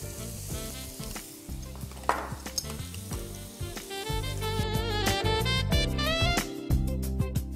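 Ginger, garlic, onion and green chilli sautéing in well-heated oil, a steady close sizzle with frequent clinks of a spoon against the pan, growing denser and brighter partway through, with background music throughout.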